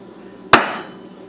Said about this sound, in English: what I'm going to do now is take a mallet and a punch. And hit it where I would like to drill for the screws.